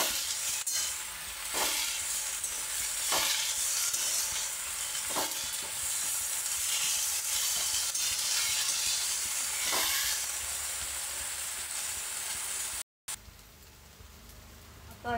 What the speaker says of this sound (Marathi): छानपैकी एकदम मस्त हलवून घ्यायची। झटपट होते, 10 मिनिटात भाजी होते,